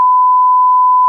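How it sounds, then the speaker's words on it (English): A censor beep, a steady pure tone held for about a second, loud and alone with no other sound. "We could beep it out after if it's too much"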